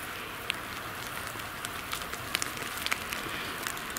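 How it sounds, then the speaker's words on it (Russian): Steady light rain, just turned from snow, hisses on surfaces in a forest, with scattered louder drops pattering here and there. "только что снег шел, уже дождь."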